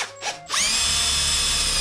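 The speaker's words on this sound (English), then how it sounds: "so now we got to drill" A power drill fitted with a 12 mm bit bores a hole while axle sliders are fitted: two short stuttering bursts, then a loud, steady high whine that holds to the end.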